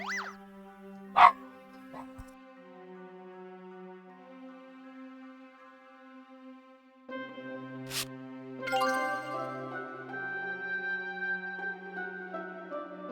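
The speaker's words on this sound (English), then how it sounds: "the dogs are going mad for no adequately explained reason" Dogs barking in the adventure game Discworld II, with a repeated barking and yipping sound set against sustained musical tones and game music.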